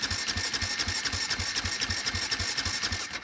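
KTM 450 quad engine cranking as it tries to start, a fast, even chugging pulse of starter turns close by that never catches.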